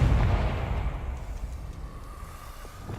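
A Confringo spell explosion in a video game, a loud booming burst at the start that decays into a rumbling tail and fades over a few seconds.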